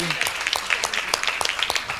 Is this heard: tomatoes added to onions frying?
no